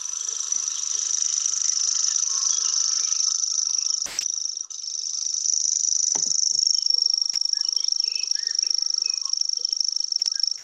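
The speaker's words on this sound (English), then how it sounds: "it's actually a bird that sounds like a grasshopper. And it has it's very cunningly named, because it's called the grasshopper warbler" A grasshopper warbler reels in a Sussex summer, a continuous high insect-like trill that runs unbroken at moderate distance, with a few faint clicks and rustles in the background.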